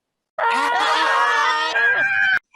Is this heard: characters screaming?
yes